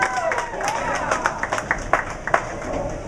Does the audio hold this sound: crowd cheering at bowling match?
yes